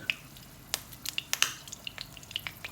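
Garlic fries in oil in a slightly wet pan, giving quiet scattered crackles and pops of sizzle over a low, steady bubbling hiss.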